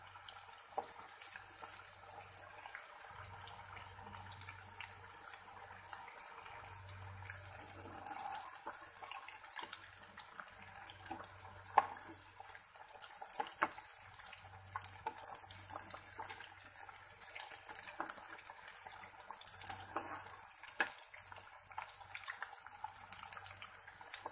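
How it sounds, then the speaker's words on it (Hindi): Chicken pieces fry four at a time in hot oil, making a steady, quiet crackling hiss with scattered pops throughout. "हम इसे 4-4 पीस करके ही फ्राई करेंगे"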